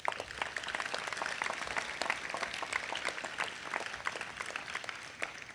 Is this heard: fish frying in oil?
no